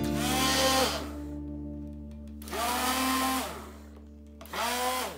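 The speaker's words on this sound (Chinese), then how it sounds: "然后可以换电动搅拌器" An electric mixer whisks homemade liquid hand soap in three separate bursts of high, whining motor noise, each cutting off into a low steady hum, with no talking.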